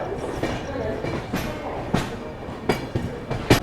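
The Dibrugarh Rajdhani Express runs along the track, a steady rumbling interior ride with periodic clacks from the wheels over rail joints.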